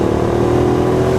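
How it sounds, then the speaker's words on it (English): A 2008 Hyosung GT650R sport motorcycle engine-brakes after the throttle is rolled off, producing a loud, steady, close engine drone with no talking. "I'll tell you one area where this bike really excels is engine braking. Here, let me roll off throttle here."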